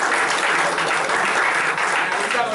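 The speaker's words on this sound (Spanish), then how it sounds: "Un aplauso para Felipe Chicola" Steady, dense applause from an audience at an electoral observatory panel, welcoming a political analyst panelist; continuous clapping fills the whole stretch at even loudness with no pauses.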